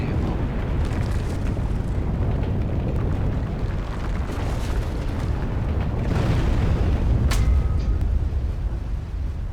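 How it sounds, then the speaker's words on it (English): A volcano erupts in the game Volcanoids, a sustained deep rumbling roar with scattered crackling bursts and a louder swell near the end, continuous and fairly loud. "And there's the volcano going off."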